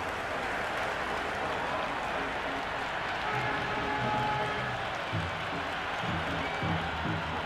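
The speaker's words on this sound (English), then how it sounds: "It's almost palpable, the excitement emanating from this crowd at the moment." A cricket stadium crowd in the video game Cricket 26 keeps up a steady wash of cheering and applause, with a faint commentator's voice running underneath.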